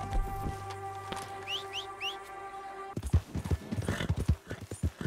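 Horse hooves clip-clop steadily on a trail in the Red Dead Redemption 2 video game, with birds chirping early on and a low ambient hum before the hoofbeats grow louder and denser.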